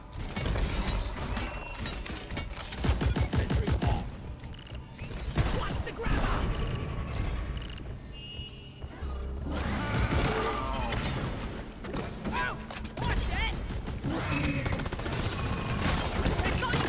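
Deep Rock Galactic engineer sentry gun firing rapid bursts of automatic rounds amid chaotic combat noise, mechanical clanks and voices speaking over the action.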